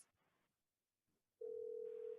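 A telephone ringback tone sounds as a caller is dialed into a conference call for a tribal council meeting, a steady loud tone starting partway through after faint murmuring and a brief quiet gap.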